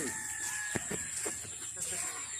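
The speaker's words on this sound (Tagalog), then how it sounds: "Ito po ang mga sisiw na Rhode Island Red." Rhode Island Red chicks and chickens on a farm, with scattered clucks and peeps close by over a steady background hiss, a few louder calls standing out.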